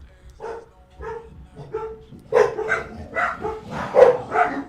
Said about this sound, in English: They bark. Nothing I can do about it.